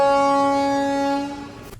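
A train horn sounds as one long, steady, loud blast at a station stop, then cuts off near the end with no other noise around it.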